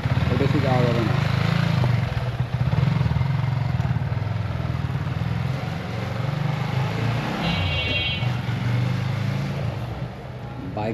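A Yamaha R15 V3 BS6 motorcycle with a freshly replaced piston runs steadily at a low, even idle, its engine drone continuous and close throughout, with faint talk beneath it.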